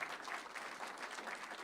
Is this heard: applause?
yes